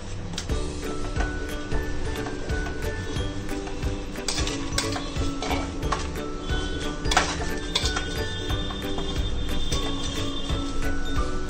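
Sugar paste being stirred into laddu batter in a bowl: a steady run of scraping and light clinking from a utensil against the bowl, close and continuous, with no talking.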